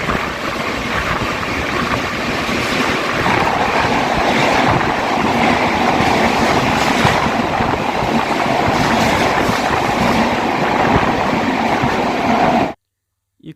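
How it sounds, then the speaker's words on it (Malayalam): Train running through a tunnel on the Konkan railway, a loud, steady enclosed roar of wheels and carriages with faint rhythmic clatter that holds for about twelve seconds before cutting off abruptly. "ഈ ഗുഹയിൽ കയറിയുള്ള സൗണ്ട് നിങ്ങൾക്ക് ഇപ്പോൾ കേൾക്കാം."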